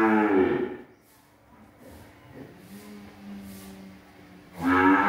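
Cattle at a Vietnamese cattle farm letting out two loud, close, drawn-out moos, one at the start and one at the end, with quieter lowing and farm noise between them.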